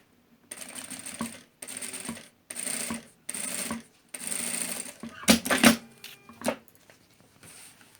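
A sewing machine stitches bias binding onto a fabric bag in several short runs, each a steady close whir lasting about a second, separated by pauses with clicks and fabric handling.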